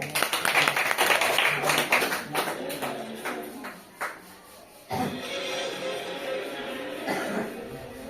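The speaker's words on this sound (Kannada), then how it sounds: "ಜೋರ ಚಪ್ಪಾಳೆ" Children clap loudly at a school quiz for first to third standard pupils, starting as scattered sharp claps and swelling into a dense, sustained burst of applause.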